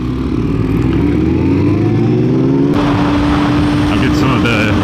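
A new motorcycle engine in its break-in period revs steadily, close and loud, with pitch rising and a sharp step up partway through.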